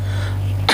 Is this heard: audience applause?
no